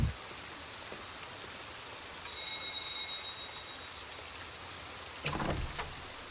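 Steady, heavy rain pouring down, a dense continuous hiss with a few brief louder splashes and clatters.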